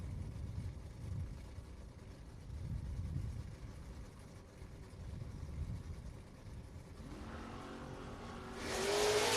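Drag racing cars, an '84 Oldsmobile Cutlass and a Mustang, rumble faintly in the distance at first, then an engine revs up and roars louder near the end.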